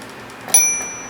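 Bell on a 1903 Stower antique typewriter rings once, a single bright close metallic ding with a clear ringing tone that decays slowly over half a second, alone with no speech.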